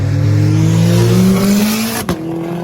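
A Volkswagen Golf 6R, driven by a woman, revs hard as its engine climbs in pitch, then shifts gear with a sharp break before pulling again, loud and close with no talking.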